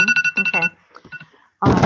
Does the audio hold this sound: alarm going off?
yes